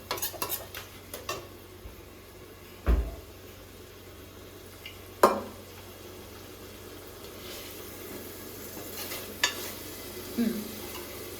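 Onion masala with kasuri methi fries in a pan for chicken biryani, a soft steady sizzle broken by several sharp clanks of a spoon stirring against the metal.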